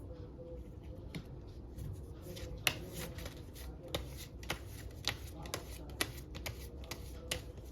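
Tarot-style playing cards are shuffled by hand up close, a soft papery riffle with repeated sharp slaps and flicks as cards are cut and tapped, faint and quiet in a calm room.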